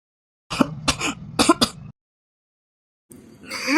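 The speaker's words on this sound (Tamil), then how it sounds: "நான் கத்துனா இவனுக்கு ஏமா இருமல் வருது?" A man gives a short burst of harsh throat-clearing coughs, four sharp close hacks in quick succession, then a pause before a rougher raspy breathy sound returns.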